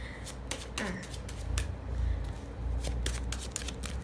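Tarot cards are shuffled by hand close up, with rapid papery riffles and flicks in quick bursts over a low background hum.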